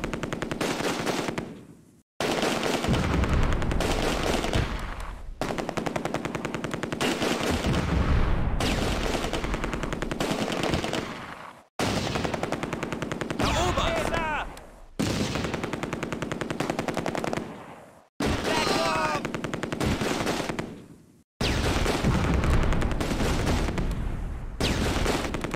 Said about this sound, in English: They have so many goddamn mortars